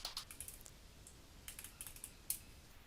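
Quiet, close typing on a computer keyboard as a git commit command is entered in a terminal, a quick irregular run of light key clicks with short pauses, faint and without talk.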